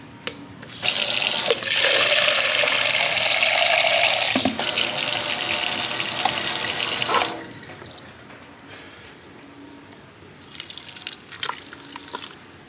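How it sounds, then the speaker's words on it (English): Tap water runs loudly into a pot of braised beef cheeks, a steady rushing pour for several seconds that then stops, followed by quieter kitchen sounds and light clatter. "I'm probably going to top this off with some water"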